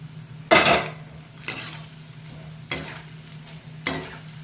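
Bitter gourd pieces fry in a pan and get stirred, giving four separate bursts of rattling, scraping sizzle against a steady low hum, with no talking.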